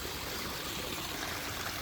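Water tumbles down a garden pond waterfall in a constant, even rush, close and moderately quiet, with no other sounds over it.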